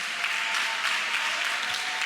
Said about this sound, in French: on nous applaudit formateurs